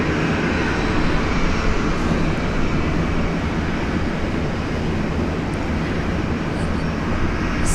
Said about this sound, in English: we've got some viewers on Virgin Australia flight 771 heading off to Cairns